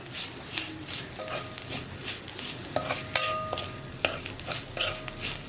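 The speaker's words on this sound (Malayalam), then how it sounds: "അതുവരെ ഇളക്കി കൊടുക്കുക." A utensil stirs beef masala with onions and spices in a pan, giving steady close scraping and clinking strokes with a faint sizzle underneath.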